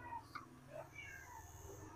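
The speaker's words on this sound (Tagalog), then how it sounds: "May bisita po tayong pusa." A visiting cat meows faintly a few times inside a repair shop where a Suzuki Alto 800 is being fixed, its short cries rising above a low, steady background hum.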